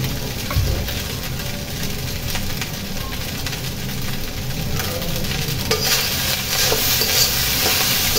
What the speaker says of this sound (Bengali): ভাত ভাজি হয়ে গেছে